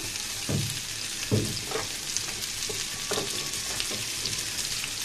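Potatoes frying in oil in a pan, a continuous bright sizzle with a few soft knocks of stirring scattered through, close and steady with no talking.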